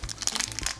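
Plastic packaging of a Disney Doorables toy being cut open with scissors, a short burst of close, crisp crinkling and rustling heard on its own.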